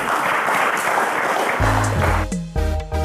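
Steady, dense studio audience applause for a quiz show contestant fills the first half, then thins as music and a voice take over.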